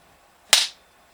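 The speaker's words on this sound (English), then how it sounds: "But now I've got a functional clapboard that I can use to sync up my audio and my video" A homemade wooden clapboard snapping shut gives a single sharp, loud clack that rings briefly and fades within a fraction of a second.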